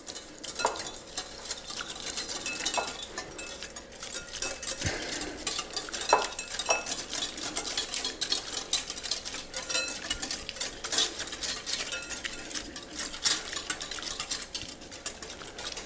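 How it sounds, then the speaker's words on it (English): Garlic, egg yolk, shallots and balsamic vinegar whisked gently in a bowl: continuous quick clinking and scraping of a whisk against the bowl, close and fairly quiet, steady throughout with no speech. "I want to whisk everything in gently, little by little."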